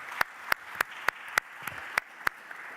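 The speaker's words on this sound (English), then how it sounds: "So I would like to give a round of applause to all the speakers." After a session of talks in a large conference hall, about eight sharp, evenly spaced hand claps ring out in a steady beat, sparse rather than a full crowd ovation.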